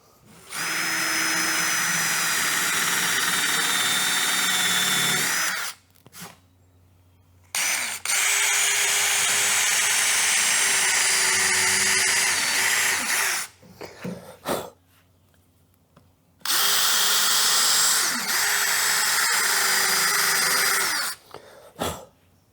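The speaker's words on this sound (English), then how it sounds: "Drill." A power drill whines loudly in three long bursts while drilling a boat transom, with short quiet pauses and a few clicks and clatters between runs.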